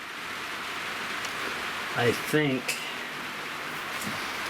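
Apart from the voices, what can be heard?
rain falling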